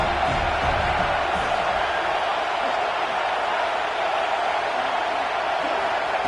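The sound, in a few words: football stadium crowd cheering on third down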